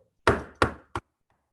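Three knocks on a door, two firm raps followed by a shorter, lighter one, close and distinct against silence.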